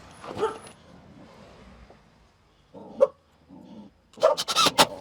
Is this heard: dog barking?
yes